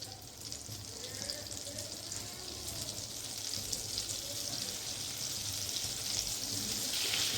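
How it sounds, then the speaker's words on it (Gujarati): Butter heating in a kadai, a steady fine sizzle and crackle that slowly builds in intensity over several seconds, close and continuous with a low background hum. "અહીંયા મેં બટર ઉમેરી દીધું છે અને હવે ગરમ કરી લઈશું"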